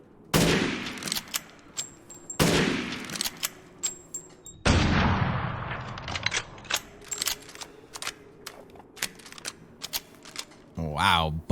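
An F2 rifle in the Resident Evil Village video game fires a few heavy, loud shots with long decaying echoes, followed by clicks and mechanical handling sounds, and a brief voice at the end.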